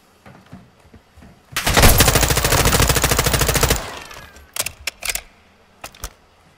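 Gunfire shoots down a target in Modern Warfare II: a rapid, loud automatic burst of about two seconds, followed by a few scattered single shots and clatters.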